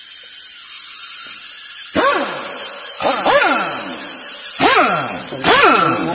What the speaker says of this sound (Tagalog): gamitan ko siya ng impact